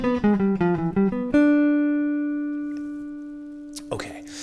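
A faster run of the jazz guitar ii-V-I line: a quick flurry of picked single notes lands on a long sustained note that slowly fades, followed by a brief rustle at the end.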